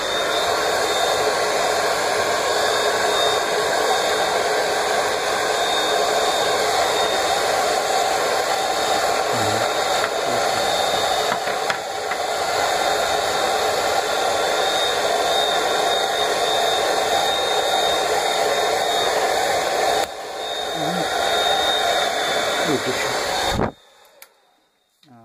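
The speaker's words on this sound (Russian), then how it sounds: "Включай фен и давай покажем." A hair dryer heats an LG VK815 tablet to loosen its touchscreen, blowing as a loud, steady whooshing roar for over twenty seconds before shutting off abruptly near the end.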